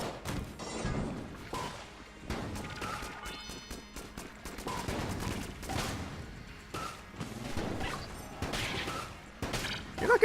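Rapid gunfire in the video game Enter the Gungeon, dense thumping shots and crashing impacts firing in quick irregular bursts, loud and continuous with game effects layered on top.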